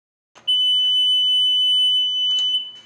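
A wastewater control panel's external alarm horn gives a shrill, steady electronic tone for about two seconds, loud and nearby, then cuts off.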